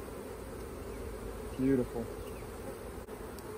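Honey bees buzzing around an open hive during a beekeeping inspection, a steady close drone with a brief louder swell as one passes near; a voice speaks a single word.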